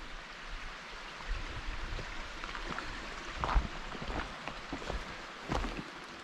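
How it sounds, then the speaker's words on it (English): A small creek flows at the Cold Creek trailhead near Silver Peak, a soft continuous babble with faint trickles and splashes, quiet and steady with no voices. "Oh, nice little creek."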